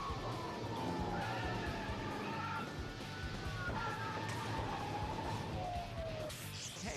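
A car fleeing police rams into patrol cars and skids away, tires squealing in long wavering tones over a rough engine rumble, with brief bumps and scrapes throughout.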